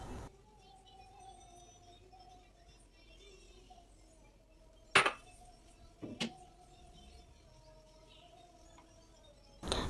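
A Teflon pan is set on a kitchen stove and the stove is lit, giving a couple of sharp metallic clanks and clicks over a quiet background hum, with no speech.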